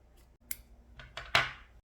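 Scissors snip through thick six-strand embroidery floss during French embroidery, a few short close cuts, the last one sharpest and loudest, with no talking.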